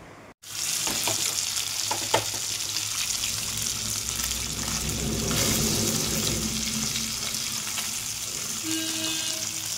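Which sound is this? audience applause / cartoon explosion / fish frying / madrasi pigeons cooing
fish frying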